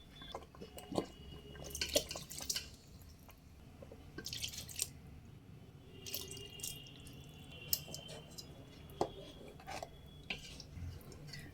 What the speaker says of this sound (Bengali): এই পর্যায়ে এসে আমি এখানে আরও কিছু জল দিয়ে দেব